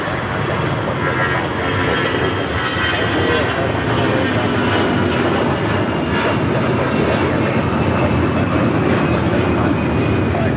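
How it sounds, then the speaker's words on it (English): A Delta Airlines Airbus A319 takes off, its engines a loud, sustained, even roar that holds steady from start to finish. "That is Delta Airlines 1024 taking off to San Antonio on the A319."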